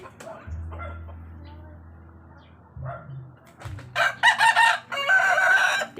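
Chickens cluck softly and low nearby, then a rooster crows loudly in repeated, drawn-out calls, with some quiet talk mixed in.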